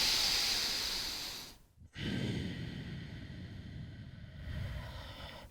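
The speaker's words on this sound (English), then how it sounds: "always coming back to that slow, controlled breathing" Slow, controlled breathing during a yoga session: a long airy exhale fades out, a short pause, then another drawn-out breath follows, close and soft with no talking.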